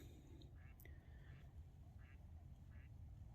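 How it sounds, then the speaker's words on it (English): Several faint honking calls of Canada geese in the distance, spaced out over low background rumble. "I can hear Canadian geese."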